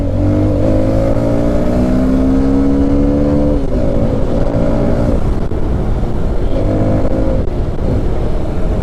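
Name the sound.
NK 150 dirt bike engine while riding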